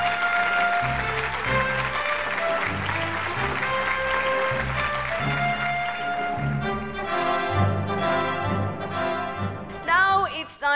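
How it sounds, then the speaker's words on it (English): Applause at an awards ceremony for metal cutting brands, heard as moderate clapping under a sustained musical bed, with the clapping fading as the music shifts and becomes more prominent toward the end. "Can we please have a round of applause?"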